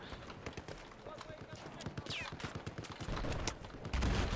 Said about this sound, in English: That LAV or tank just shooting at us.